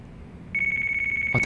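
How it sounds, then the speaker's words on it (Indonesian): A telephone rings in the Yakuza 4 video game, a steady electronic trill that starts about a third of the way in and holds at an even level, with a brief bump of other noise at the very end. "Oh telepon."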